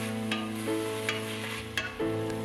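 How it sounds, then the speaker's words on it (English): Celery and cilantro stir-fry in hot oil with a close sizzle, broken by a few sharp scrapes and clinks of the utensil against the pan and a low hum underneath. "Then we're going to quickly stir fry together the celery and the cilantro"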